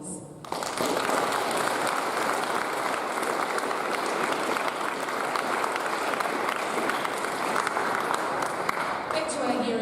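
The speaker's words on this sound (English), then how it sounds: "A round of applause." A school audience at a Year 11 prize giving claps for the college's Board of Trustees: dense, sustained applause that starts abruptly and runs evenly throughout.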